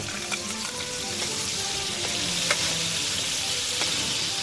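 Sofrito with garlic hits the hot paella pan and fries in a steady, close crackling sizzle over a low flame, with a few sharp pops and faint stirring scrapes and no one talking.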